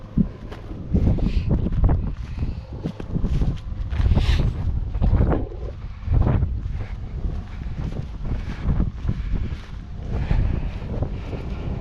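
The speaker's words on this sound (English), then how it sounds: "Sorry about the wind noise." Steady, gusty wind buffeting the microphone, a low rumbling roar that swells and dips throughout with no speech.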